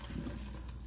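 Salt cod being strained, with water draining off it in a soft, steady liquid trickle that runs through the short moment, close and fairly quiet.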